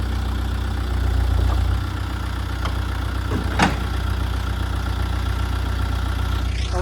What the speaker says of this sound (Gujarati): મામાએ જીસીબી ચાલુ કર્યું ને અવાજ મસ્ત આવ્યો છે